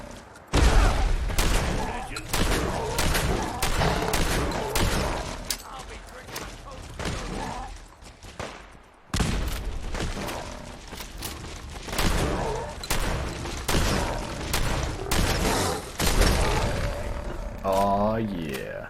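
Super mutants fire guns in Fallout 4, dense volleys of sharp cracks and bursts rattling on and off with brief gaps, loud and close, with deep roaring game noise around them.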